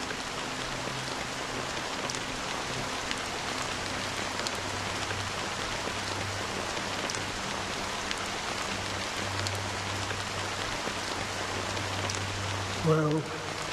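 Steady rain falling during a Honkai Star Rail game cutscene, a dense, even hiss of drops on surfaces throughout, with a faint low hum underneath and a brief soft knock near the end.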